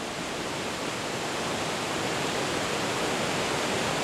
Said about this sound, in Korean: 마치 악마가 입을 벌리듯 굉음을 내뿜으며 거대한 물줄기를 토해낸다.